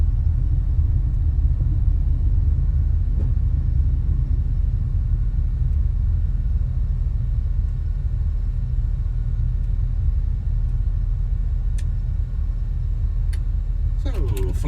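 A Black Square A36 Bonanza taxis over a grass runway in a flight simulator, giving a loud, steady engine rumble with a low drone that holds throughout and faint clicks near the end.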